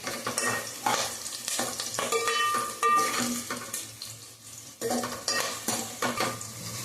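Tempering with curry leaves frying in a pan for lentil soup, a close sizzle broken by repeated clinks and scrapes of a metal spoon against the pan, no speech.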